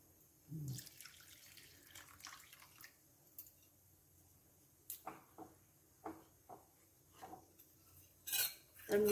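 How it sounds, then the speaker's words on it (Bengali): Firni being stirred in a pot, heard as scattered scrapes and clinks of a utensil against the metal pot between quiet stretches, with one louder clatter at the end. "আমি এবার এটা একটু আস্তে করে মেশাচ্ছি আর নাড়তে থাকবো"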